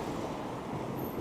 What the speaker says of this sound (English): Oh, there goes a train.